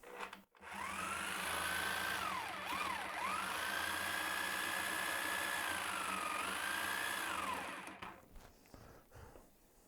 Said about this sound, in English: do some sawing.